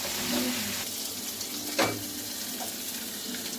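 Potol roast being stirred in a pan just after a spoonful of ghee goes in: a steady close sizzle with soft scraping from the spoon and one brief louder clink, with no talk.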